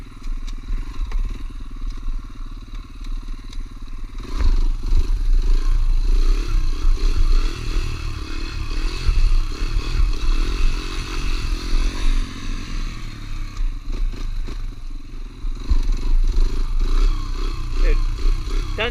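A trail bike motorcycle rides along a street, its engine droning loudly and steadily close by with shifting revs, rattles and wind buffeting, while someone talks over it.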